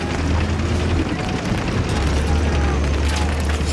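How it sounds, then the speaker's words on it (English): A detonated charge explodes in the Battlefield 3 mission Thunder Run, a loud, sustained roaring blast with a heavy low rumble that fills the whole moment. "I just need someone to get to the trigger and detonate it."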